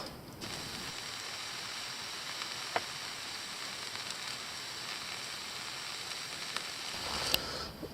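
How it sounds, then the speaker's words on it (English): Soft, steady sizzling hiss of food cooking on a barbecue grill outdoors, with a few faint pops and crackles, fairly quiet throughout. "It's having a sizzle."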